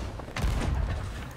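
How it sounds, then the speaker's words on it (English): A ship's cannon in the pirate game Sea of Thieves fires with a single dull boom and rumbling tail, moderately loud amid game ambience. "Use cannon."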